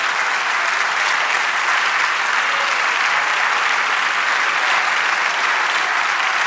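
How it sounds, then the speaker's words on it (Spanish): Church congregation at a Spanish-language sermon claps in loud, continuous applause, a thick unbroken wash of hands that does not let up for the whole stretch. "Dale un aplauso al Señor."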